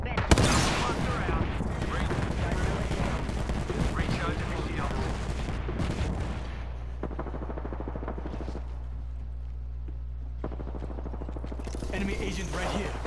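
Rapid gunfire from the video game Apex Legends crackles in dense bursts for several seconds, then thins into scattered shots under low mechanical hum, with voices speaking at times.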